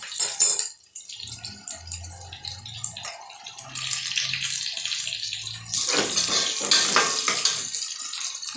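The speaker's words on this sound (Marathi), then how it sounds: "बघू शकता अशा पद्धतीने कांदा परतोय." An onion sautéing in a large pot, with a steady frying sizzle and occasional stirring scrapes and clatter that grow louder and busier in the second half.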